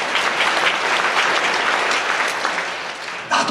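A church congregation at a deaf ministry service breaks into full, continuous applause, dense and loud throughout before cutting off abruptly near the end.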